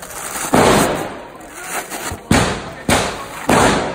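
Four loud, close gunshots from a police range demonstration, 5.56 rounds fired into a steel armor plate, each a sharp burst followed by a decaying echo, spaced irregularly roughly a second apart.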